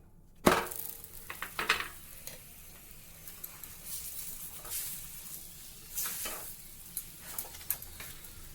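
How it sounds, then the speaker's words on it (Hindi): Flaxseed paratha roasting in ghee on a hot griddle, with a steady close sizzle under scraping and pressing strokes and scattered sharp crackles and taps, no voices. "आज हम पराठा घी से सेक रहे हैं।"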